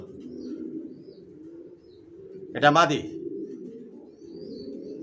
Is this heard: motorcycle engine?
no